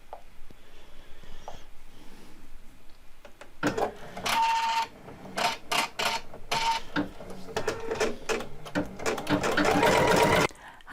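An embroidery machine stitches a crazy quilt block, its needle chattering in loud, rapid mechanical bursts after a quiet start, with short pauses between runs.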